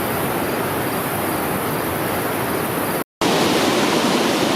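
Niagara Falls roars as a constant, loud, broadband rush of falling water heard close by, unbroken except for a brief cut near the end.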